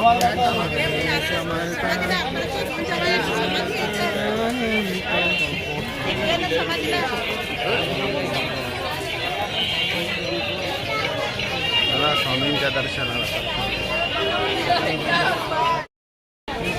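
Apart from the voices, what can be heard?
crowd chatter at a busy temple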